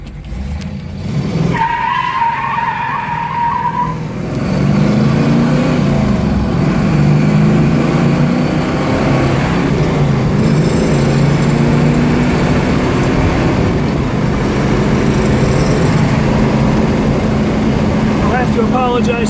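A 1969 Ford Mustang Mach 1 Cobra Jet (R-code) revs hard and accelerates while sliding sideways in a lane, its loud engine note climbing steadily and holding a close, sustained roar for most of the stretch.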